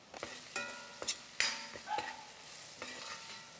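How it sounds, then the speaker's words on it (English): A curry with dried curry leaves sautés in a pot, with a low sizzle under a series of distinct clinks and scrapes from a spoon stirring at irregular intervals. "I'm going to leave this to saute a bit"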